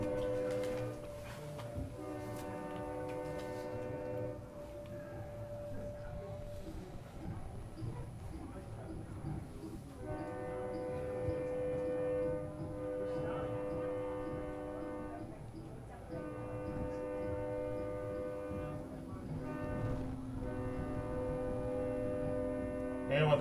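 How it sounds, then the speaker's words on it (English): A train passes near a high school football field, sounding sustained horn blasts several times over the low rumble, with an announcer talking throughout. "with the train noise in the background"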